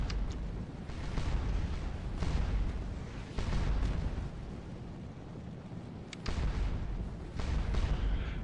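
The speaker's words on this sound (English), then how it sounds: "I love setting up artillery like this and just being able to bomb away" Cannon fire from artillery batteries in the Napoleonic battle game Scourge of War Waterloo, heard as a series of repeated booming shots spaced a second or two apart over a steady low battlefield rumble.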